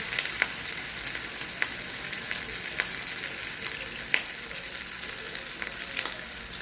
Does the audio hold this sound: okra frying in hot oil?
yes